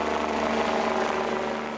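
A police helicopter drones steadily overhead on patrol over East London, its rotor and engine noise loud and continuous with a constant, even rumble.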